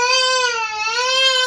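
A small baby cries loudly and close by, a single sustained, strained wail that wavers in pitch without pausing.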